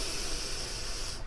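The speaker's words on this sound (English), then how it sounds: "take one last really deep belly breath that makes your belly fill up like it's a giant balloon in there, full of air." A deep belly breath drawn in during a guided meditation, heard as a steady, loud, airy hiss of close inhalation lasting a little over a second.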